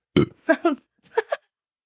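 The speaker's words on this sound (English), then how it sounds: "There was a little belch there." A little belch after drinking chilled Sprite, a few short throaty bursts close by with brief pauses between, quiet and with no talking.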